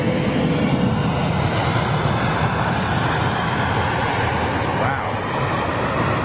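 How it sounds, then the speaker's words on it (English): A British Airways Boeing 787-8 Dreamliner landing at Heathrow, a loud steady broadband jet roar that holds constant throughout with a faint sweeping whine near the end. "It's another 800 variant of the Dreamliner with British Airways."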